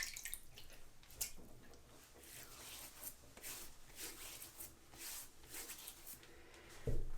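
Water splashed onto a face before shaving, heard as quiet, close dripping and wet splashes in scattered bursts, with a louder splash near the end.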